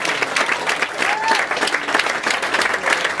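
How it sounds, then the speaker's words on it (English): Audience applause aboard a cruise ship fills the room for the galley team, a steady dense clapping that stays loud and even throughout with faint voices mixed in. "can I ask for one final round of applause for the wonderful work of the galley team here"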